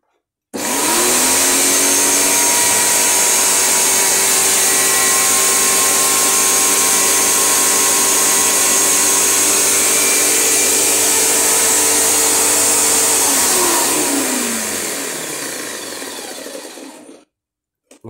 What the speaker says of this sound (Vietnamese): Motor chạy rất còn êm.